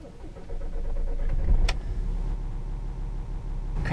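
A 2004 Volkswagen Jetta TDI diesel cranks and fires up from inside the car, settling into a steady low idle rumble, with a sharp click partway through and no talking.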